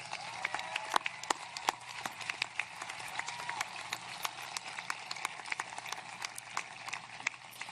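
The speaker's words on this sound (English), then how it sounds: "That deserves our applause." Audience applause at a high school STEM academy graduation ceremony, a steady wash of many hands clapping with sharp individual claps standing out, moderately distant and sustained throughout.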